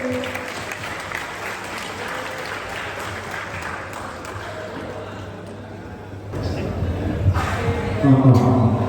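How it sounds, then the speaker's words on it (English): An audience claps as the speakers take the stage at a hackathon conference keynote. The applause is steady and fairly loud throughout, with a low hum and some murmuring underneath, and it swells near the end. "let's give them a round of applause as they take the stage"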